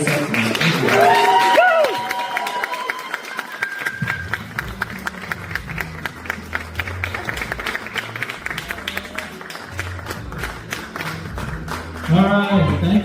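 Audience at a standup comedy open mic bursts into applause and scattered cheers, with claps continuing as a voice speaks over the crowd.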